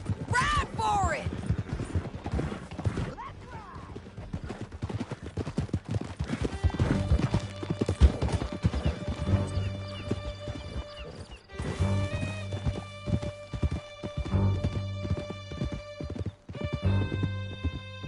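Horses gallop hard through a canyon in Red Dead Redemption, with rapid close hoofbeats, a horse whinnying near the start, and music swelling underneath.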